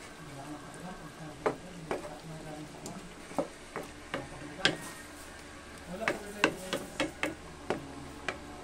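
A spatula scrapes and taps against a frying pan while food is stirred, a series of soft, fairly regular clinks and knocks over a faint sizzle, quiet and close.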